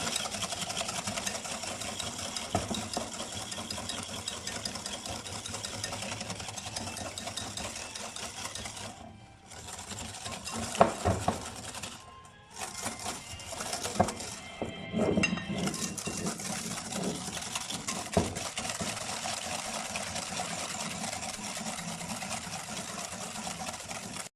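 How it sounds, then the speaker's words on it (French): Egg yolks and sugar being whisked in a bowl for a homemade Paris-Brest, a continuous fast buzzing whir like an electric mixer, steady and fairly loud with two short pauses. "on va faire blanchir les jaunes d'œufs et le sucre. Donc on mélange bien"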